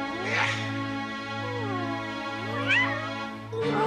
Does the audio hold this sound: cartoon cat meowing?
yes